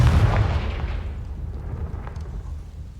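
A Confringo blast spell bursts in the Hogwarts Legacy video game, a loud booming explosion at the start that rolls off into a long rumbling decay.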